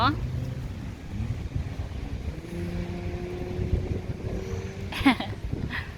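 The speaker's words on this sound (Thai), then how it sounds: "ลมพัดเย็นสบายใช่ไหม" Wind blows outdoors around a play area where a turtle nest is being built, a steady rumbling gusty noise across the microphone, with voices and faint background tones underneath.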